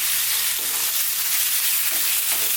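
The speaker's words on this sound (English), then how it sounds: "as you can hear, highish heat, we're going to just fry this round, get a bit of colour on it" Beef stir-frying on highish heat, a loud dense sizzle that stays constant throughout, with a few soft stirring scrapes rising through it.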